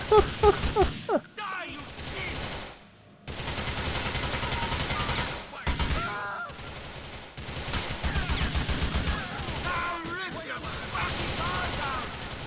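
Rapid bursts of automatic gunfire crack through a Grand Theft Auto IV shootout, loud, close and broken by brief pauses, with voices heard between volleys.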